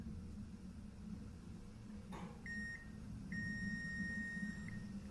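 A continuity tester beeps as its probes touch a pin while checking wiring on a 1.8 turbo engine conversion in a Mk2 Golf GTI: one brief beep, then a longer steady tone, both faint over a low background hum.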